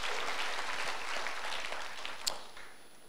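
Church congregation applauding during a Sunday sermon, a dense steady wash of many hands clapping that fades slightly toward the end, with no voices over it.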